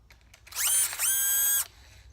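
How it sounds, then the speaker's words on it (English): A Sawzall reciprocating saw cuts through PVC pipe in one short, loud burst of just over a second, with a brief pause partway through. Quiet room tone comes before and after. "You're going to run the Sawzall blade between these two steel bands"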